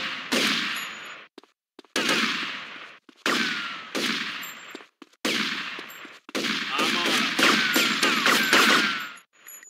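Video game gunfire from GTA Vice City: rapid automatic bursts in several loud stretches separated by short gaps, with a longer sustained volley near the end and police radio chatter mixed in.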